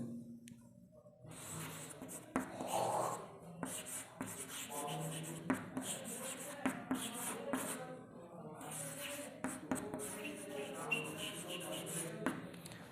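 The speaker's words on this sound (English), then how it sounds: "So, let me write the poet's name." Marker or chalk scraping across a classroom board while a name is written, in repeated short strokes with scattered taps, moderately close and fairly quiet, with some low voice and room noise around it.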